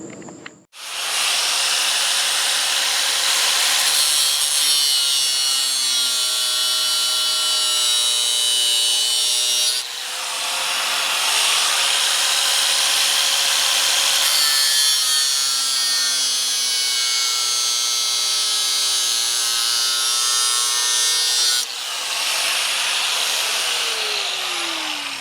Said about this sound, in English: I can probably do that with my angle grinder even while the cover's up here.